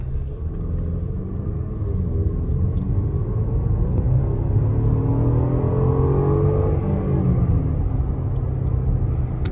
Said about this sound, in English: Sounds like every 2-liter turbo ever.